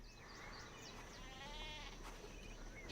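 Goats bleating, with wavering calls rising over a low steady background hum.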